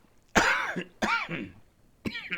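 Three hoarse coughs close by, the first two about a second apart, the third after a longer pause, with quiet outdoor background between them.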